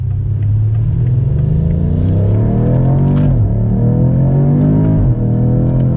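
A BMW M5 engine accelerates through rising revs in manual mode, with two clear gear-change dips as the pitch climbs again; loud, close, no talking.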